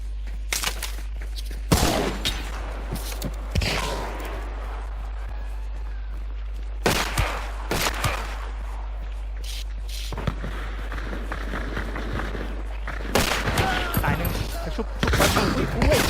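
Bursts of gunfire in the shooter Hunt: Showdown crack out in scattered volleys, some sharp and close, others distant thuds, separated by quieter stretches while players talk excitedly over the fighting.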